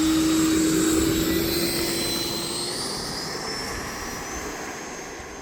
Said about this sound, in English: Nice gentle takeoff.